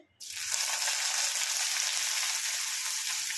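Onions frying in hot oil in a home kitchen, a loud steady sizzle that bursts in as they hit the pan and then holds a constant bright crackle with no talking.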